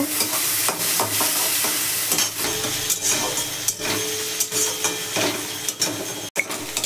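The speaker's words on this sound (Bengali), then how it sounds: "পেঁয়াজ কুচিটা দিয়ে ভালো করে ভাজা করব।" Chopped onions frying in oil with whole spices such as bay leaf, cumin and garam masala, stirred in a pan: continuous loud sizzle broken by repeated scraping and knocking strokes of a spatula, close by.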